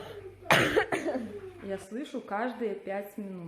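A single loud cough near the start at home, followed by someone talking.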